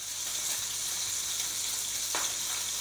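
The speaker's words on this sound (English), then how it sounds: "I've got the sausage meat frying in the pan now, and it's going really crispy" Sausage meat frying in a pan, a steady close hiss and crackle of sizzling fat with small pops, continuous and fairly quiet with no talk.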